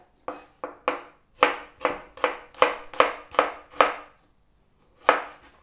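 A knife chops through red onion on a cutting board in about eleven crisp, close strikes: a quick run of three, a steady series of seven, a pause, then one final cut, with no talking.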